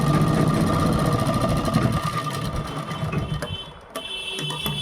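A sewing machine stitches a kurti with a fast, steady mechanical whirr and needle chatter, slowing briefly near the end before running on again; close and fairly loud, with no talk.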